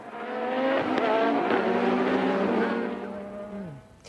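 A Formula One car with a 1.5-litre engine races past, its loud engine note rising and falling steadily for several seconds before dropping away in a falling sweep near the end.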